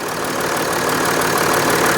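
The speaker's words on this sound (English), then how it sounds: "you can rev it for me so I can try to figure out where the leak is" A Mercedes-Benz GL350 engine running steadily up close, a dense continuous mechanical drone with a knocking edge and no clear rise in pitch, heard alone without talk.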